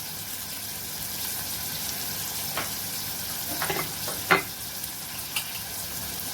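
Soft crackling sizzle of mace, bay leaf, pepper and cloves in hot ghee for a millet khichdi tempering, with a few sharper pops and stirring scrapes near the end.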